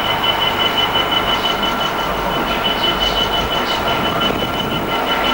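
A car-carrying freight train, 66111, rumbles past steadily, with continuous rolling noise and a faint high-pitched squeal running through it, fairly close and without speech.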